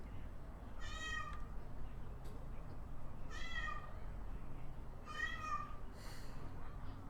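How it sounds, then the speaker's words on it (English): A hungry cat meows insistently for wet food, giving three drawn-out, fairly quiet cries spaced a couple of seconds apart over a steady background hum. "I have a hysterical meowing cat in the background"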